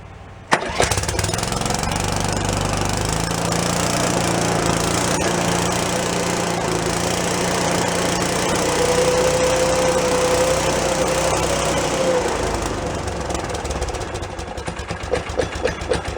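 A Beaver amphibious vehicle's new engine catches on its first start in 25 years, then runs loud and steady with a rough, knocking idle and a slight rise in pitch partway through.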